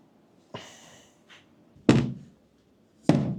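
A motorcycle seat on a used litre bike comes off with three separate dull thunks, close and distinct, with quiet gaps between them.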